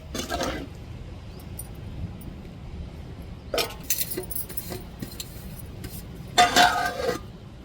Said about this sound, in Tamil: இப்போ ஒரு தட்டை போட்டு நல்லா கிண்டி விட்டுட்டு நம்ம மூடிக்கிடுவோம்.